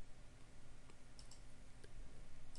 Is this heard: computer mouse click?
yes